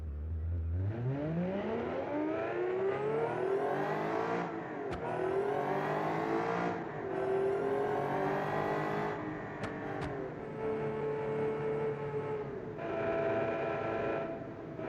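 A supercharged V12 car engine in a racing video game revs hard, pitch climbing through repeated gear changes with sustained loud harmonic whine across the whole stretch.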